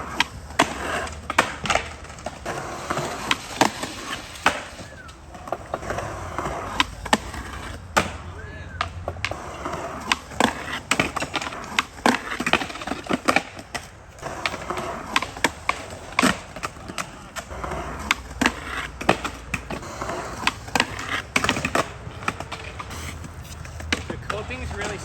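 Skateboard wheels rolling and clacking at an outdoor DIY skatepark, with repeated sharp pops and scrapes as a nollie front crooked grind is tried on a ledge with slick coping and a grippy deck; occasional voices talk nearby.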